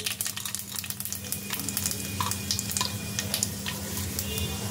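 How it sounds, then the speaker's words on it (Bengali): Whole spices such as mace and cinnamon go into hot oil for a methi chicken base, crackling and sizzling with sharp, irregular pops over a continuous frying hiss, close and fairly quiet. "এবার আমি এই তেলের মধ্যে দিয়ে দেব কিছু ফোড়ন"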